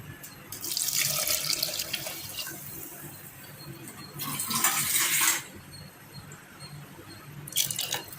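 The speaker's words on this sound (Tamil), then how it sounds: "எந்த கிண்ணத்தில் எடுத்தோமோ அதே கிண்ணத்தில் ஒரு 2 லிட்டர் தண்ணி எடுத்துக்கிறேன்." Tap water runs into a kitchen bowl to fill it with about two litres, heard as close, hissing bursts of flow starting and stopping three times, with quieter gaps in between.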